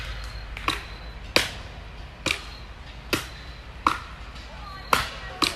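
Axe blows striking a log during a women's logging competition at the Mountain State Forest Festival, seven sharp, evenly paced thwacks ringing out over steady crowd murmur.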